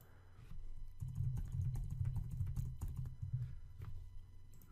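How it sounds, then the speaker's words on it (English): Typing on a computer keyboard: a dense, continuous patter of close key clicks and thumps for about four seconds, heard alone without speech. "now you can start typing whatever you want"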